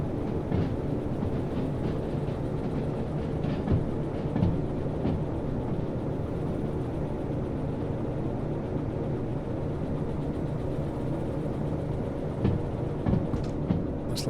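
Locomotives rolling in the train game Derail Valley, one pushing from the rear, give a steady, dense low rumble with faint rail clatter running unbroken throughout.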